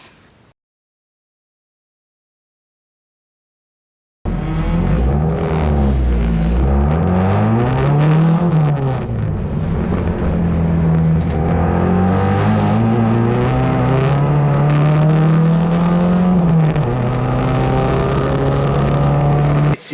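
Race cars on a circuit scrubbing their tyres to warm them, heard as a loud, close engine note that starts after a few seconds of silence and then rises and falls steadily as the cars weave, with no talk over it.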